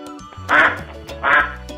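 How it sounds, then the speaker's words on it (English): A duck quacks twice, two loud, nasal, evenly spaced honks close up, set over quiet background music, with no talk. "Duck."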